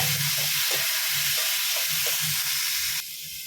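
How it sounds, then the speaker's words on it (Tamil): Onions and chopped tomatoes sauté in a pan with a constant loud hiss and sizzle, broken by soft rhythmic stirring scrapes; the sizzle drops noticeably near the end. "வெங்காயம் கொஞ்சம் வதங்கினதும் பொடியை அரிஞ்ச தக்காளி பழம் அதுவும் போட்டு கொஞ்சம் நேரம் வதக்கிக்கோங்க"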